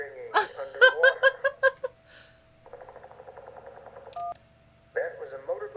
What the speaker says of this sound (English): That was a motorboat's propeller failing.